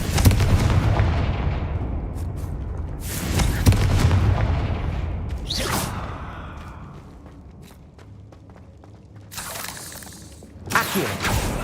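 Confringo fire spell explosions in Hogwarts Legacy: several heavy booming blasts with crackling, shattering debris, spaced a few seconds apart and fading into rumbling tails, with a final sharp burst near the end.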